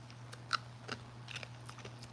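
Black cherry crystal candy, coated in luster dust, crunches under the teeth in a few sharp close bites, faint and spaced out over a low steady hum.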